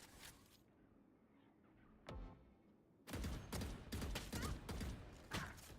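Gunshots in Valorant during a college match at the B site: one sharp shot early, then a rapid cluster of loud cracks and bursts trading back and forth, with a quiet stretch before the volley.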